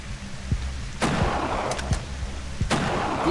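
Several sharp rifle shots ring out at irregular intervals in the hunting video game Treibjagd 3D, each a sudden crack over a steady low ambient rumble.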